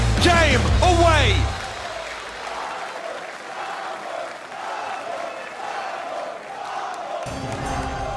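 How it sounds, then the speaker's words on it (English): A large esports arena crowd at the Brawl Stars World Finals roars and applauds loudly, with a sustained cheering wash under excited commentator voices that swells again near the end. "The crowd is electric."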